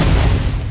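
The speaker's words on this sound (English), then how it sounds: "is it really an intro if it doesn't have an explosion in the beginning?" Explosion sound effect opening a Flex Seal product intro: a heavy, loud low boom with a broad noisy body that decays over under a second, no speech.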